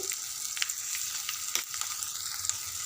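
Ivy gourd and tomato chutney stirred into a hot, sizzling tempering in a pan, giving a steady dense frying hiss with a few sharp crackles and spoon scrapes throughout, close and alone.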